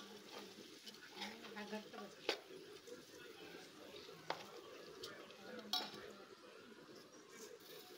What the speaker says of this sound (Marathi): छान असा हा तांदूळ आता आपण छान तेलामध्ये असं भाजून घ्यायचं आहे